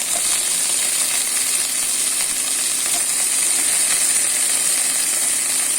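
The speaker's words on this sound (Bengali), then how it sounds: "আমি ঢেঁড়সগুলো ভেজে নেব।" Okra frying in a pan gives a steady, loud sizzle that holds evenly from start to finish, with faint crackles through it and no talking.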